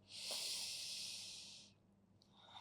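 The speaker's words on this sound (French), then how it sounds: "On va respirer 3 respirations ici." A single long, deep breath during a beginner Hatha flow yoga session, heard as a breathy hiss that swells quickly, holds for over a second and fades, followed by a short faint second breath.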